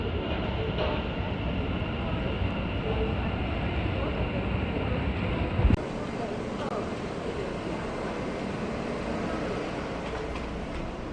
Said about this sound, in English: I'm now on the Airport Express.